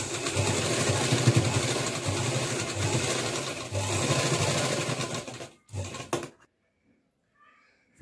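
A sewing machine stitches a belt onto a party-wear frock, a steady fast mechanical whir with rhythmic needle clatter running for several seconds, slowing in short bursts before stopping into near silence.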